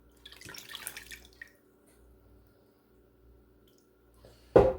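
Protein-lined pre-tied salami casings are put into water to soak: soft sloshing and dripping at first, a quiet stretch, then a short louder splash at the end.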